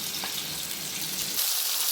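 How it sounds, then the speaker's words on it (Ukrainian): Steady sizzling of frozen button mushrooms and onions frying in a pan, a continuous crackling hiss close by, growing a bit brighter near the end. "Зараз все оце перо смажимо все разом"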